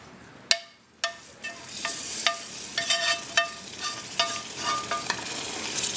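Chopped vegetables hit hot roux in a gumbo pot, giving sharp sizzling bursts with each addition, then a steady close crackling fry with repeated stirring scrapes and clinks.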